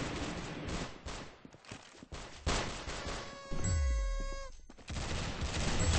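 Video game gunshots ring out in a few sharp bursts, followed by a brief ringing, falling tone and a sustained blast, loud and close with no talking over them.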